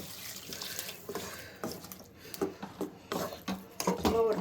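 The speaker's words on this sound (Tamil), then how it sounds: "நம்ம மிக்சியை கழுவி வச்சிருக்கோம்ல தண்ணி விட்டுக்கலாம்" Water poured from a rinsed mixer jar into a cooking pan of cauliflower peas masala, a short, soft splashing trickle, faint and close, with kitchen clatter around it.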